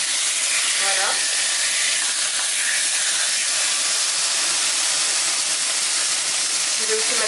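Merguez and other couscous royal ingredients cooking in a dry frying pan, a loud steady broadband hiss and sizzle that continues throughout, with faint voices underneath.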